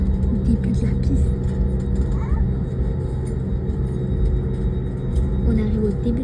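Inside the cabin of an Airbus A321neo taxiing toward the start of the runway, a steady low engine rumble fills the space while passengers' voices murmur under it.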